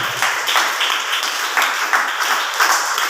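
An audience claps hands during a Telugu sermon, a steady, dense patter of many palms that swells and eases in soft waves over a few seconds, with no voices standing out.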